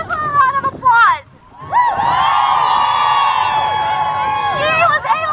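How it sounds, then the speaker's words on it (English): A rally crowd at the March For Our Lives event cheers and whoops for a high school student speaker. Shrill, sustained whoops and cheering ring close and loud over a noisy crowd after a brief lull. "Please, everyone, give her a round of applause"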